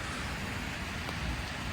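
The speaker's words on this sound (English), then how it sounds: "everybody's running and hiding from the rain" Steady rain makes a soft, dense, unbroken hiss without distinct drops or voices over this short stretch.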